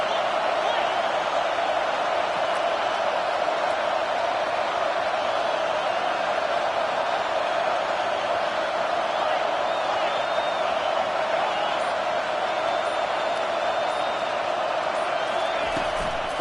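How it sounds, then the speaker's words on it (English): A stadium crowd at a college football game roars for the defense on third down, a dense, sustained wall of cheering that stays loud and steady throughout, with a commentator speaking over it. "Decibels rising as the crowd gets behind this defense on 3rd down"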